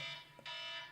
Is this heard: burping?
no